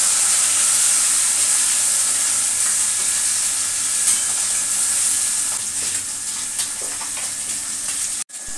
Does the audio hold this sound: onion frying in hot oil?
yes